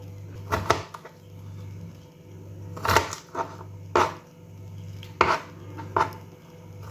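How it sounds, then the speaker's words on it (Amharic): A knife chops cucumber finely on a cutting board in a home kitchen, in several quick bursts of crisp taps with short pauses between them, over a steady low hum. "እዛ ኪያሩንም እንደዚህ ደቀቅ አድርጌ ትንሽ ከትፈዋለሁ ማለት ነው።"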